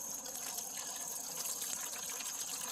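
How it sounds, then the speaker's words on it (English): Water pours steadily from a watering can into the bottom of a seed tray for fall collards, a soft continuous gushing and splashing with no speech. "In this instance, I'm going to use a watering can. I'll just put a little water at the bottom of this tray."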